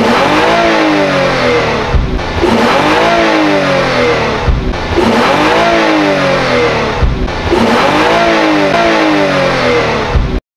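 A Sakura Motors S7 Black Series car engine in Sakura School Simulator revs up to about 6,500 rpm and drops back four times in a regular cycle, loud and close, with rising and falling whine between each rev.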